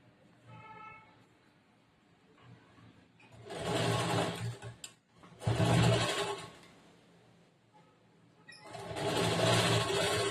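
A sewing machine stitches a bordered blouse with lining in three loud, close bursts of rapid whirring, separated by quieter pauses with faint handling sounds.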